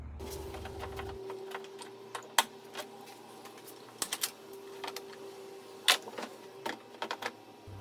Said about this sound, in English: I just need to go clip all these zip ties and then it should pull right out.